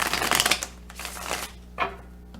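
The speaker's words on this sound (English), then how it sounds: "Let me see if I can slide some cards over here" Tarot cards slide across a surface and are shuffled in a few short bursts, close and fairly loud, then brief pauses between.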